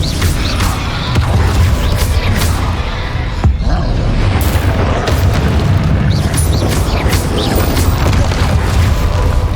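A Confringo blasting spell erupting in the video game Hogwarts Legacy, booming explosions layered over dense, loud battle noise that continues without a break.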